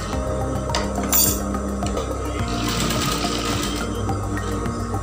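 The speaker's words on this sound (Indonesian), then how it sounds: "Kemudian ini kita jahit." A sewing machine stitches fabric pleats made with the help of a fork, a loud, steady, rapid mechanical whirr that runs continuously and close up, with faint clinks and no talk.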